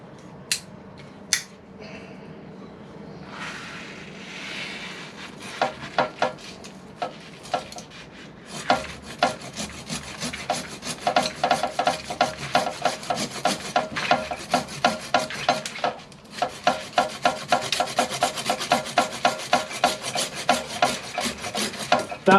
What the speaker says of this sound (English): We'll get the saw and hit a knuckle or something there.